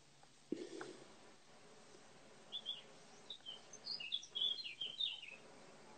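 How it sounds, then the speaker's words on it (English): Birds chirp in a backyard, a scatter of faint, high twittering calls in the background of a quiet live video call, growing busier toward the end. "They're going crazy, the birds."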